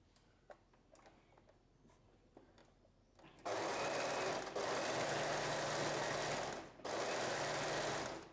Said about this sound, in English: we're just going to overlock this part down here